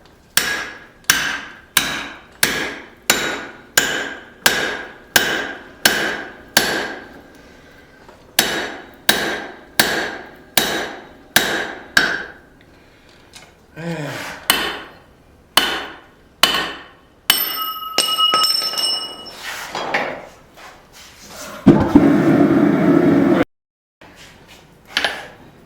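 Hammer blows on hot steel at an anvil while forging half of a pair of blacksmith tongs, a punch driven into a pritchel hole, in rapid rhythmic bursts of sharp ringing strikes separated by brief pauses, loud and close.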